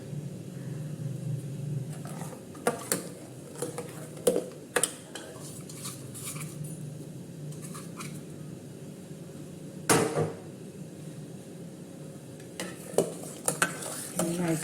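Sugar is stirred into payasam in a pressure cooker: a soft bubbling simmer runs under repeated scraping strokes of a spoon and a few sharp metallic clinks against the pot, with no speech.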